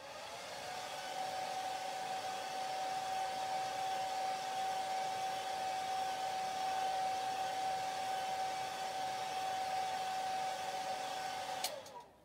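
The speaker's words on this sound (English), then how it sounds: "I'm going to dry this really quick." A hair dryer blows steadily on a chalk transfer for a craft project, a constant close whirring hum with a fixed whine that runs for about eleven seconds and then clicks off.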